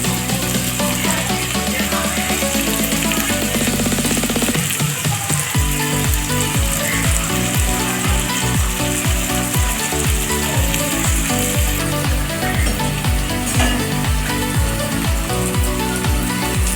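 Bajji fritters frying in oil on a home stove, a dense, steady sizzle and bubbling crackle that stays loud and continuous throughout, with no voices.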